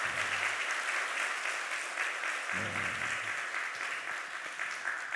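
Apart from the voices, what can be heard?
church congregation applause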